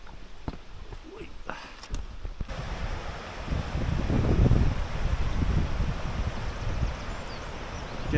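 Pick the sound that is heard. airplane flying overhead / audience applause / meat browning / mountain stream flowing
mountain stream flowing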